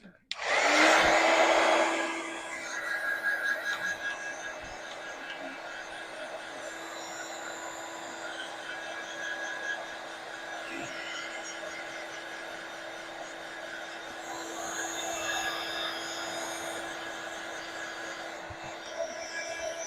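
A handheld dryer blows steady air to dry ink on a craft piece, starting with a loud burst and continuing as a constant whooshing hum with small bumps of handling noise.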